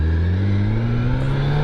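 A motorcycle engine pulls away in third gear, its loud, close drone climbing steadily in pitch over a short burst of acceleration.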